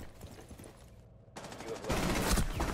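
Gunfire in a Rainbow Six Siege round on the Bank map, a quiet stretch then a loud burst of rapid shots building over the final second and a half, with faint sounds underneath before it.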